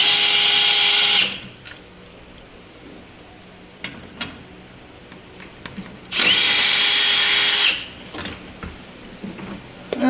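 A power drill removes 10 mm screws from the crash bar of a Toyota Tacoma, in two loud whirring bursts of about a second each, separated by quiet handling clicks and small knocks.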